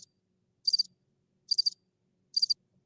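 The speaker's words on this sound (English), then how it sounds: "Just crickets, that's it." Cricket chirps used as a sound effect in quiet silence: three short, high, trilling bursts evenly spaced about a second apart, crisp and isolated against a near-silent background.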